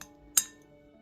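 A single bright clink of small sterilized glass jars knocking together near a kitchen counter during home canning, sharp and brief, with a short ringing tail in an otherwise quiet room.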